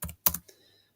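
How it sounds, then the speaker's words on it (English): A few quick keystrokes tap on a computer keyboard, close and soft, in a brief burst followed by quiet. "We ignore that and we type in login"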